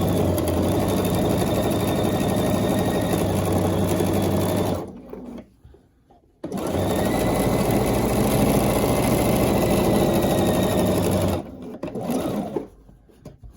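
A BERNINA 770QE sewing machine runs close up in a loud, fast continuous whir while stitching a seam, stops briefly, restarts for another long run, then halts again near the end.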